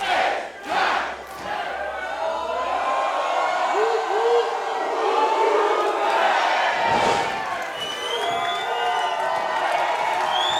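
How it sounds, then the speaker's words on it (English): A packed crowd at a Juggalo Championship Wrestling show roars and cheers steadily as a wrestler throws corner punches, loud and sustained, with shouts rising over the din throughout. "And the crowd eating it up."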